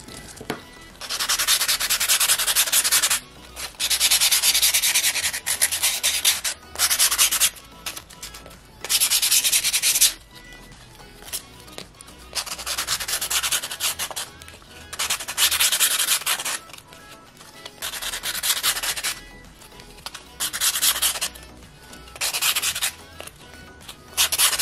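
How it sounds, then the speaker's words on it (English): Edges of new nail files being sanded by hand, a steady rasping scrape in repeated bursts of strokes with short pauses between, close and fairly loud with no talking. "So it said to prep your nail files and sand down the edges."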